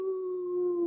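A group of people in a yoga class howl together in one long, steady, sustained tone, loud and close, with voices imitating a wolf howl.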